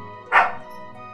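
A single short dog bark from the Chrono Trigger video game sounds once, sharp and clear over quiet background game music.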